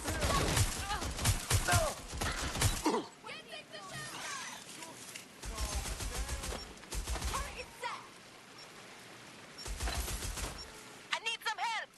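Gunfire in the video game Watch Dogs: Legion comes in several sharp rapid bursts, close and loud, separated by pauses, with voices talking between and over the shots.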